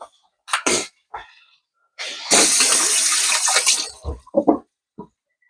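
A kitchen tap in a house runs for a couple of seconds as fingers are rinsed off after handling eggs, a close, hissing gush of water. Short nearby bumps and a sharp sneeze-like burst come before it, and brief clatters follow.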